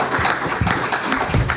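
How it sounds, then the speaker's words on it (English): Audience applause for a panel at the close of a roundtable discussion, a brief burst of steady clapping from a room of people, dense and moderately loud with no talk over it. "Please give them a round of applause."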